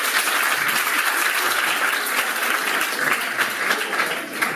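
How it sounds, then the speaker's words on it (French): Steady applause from a comedy club audience in Cotonou, a dense, even wash of clapping that holds at full loudness throughout with no voices standing out. "Des applaudissements pour Célia, s'il vous plaît."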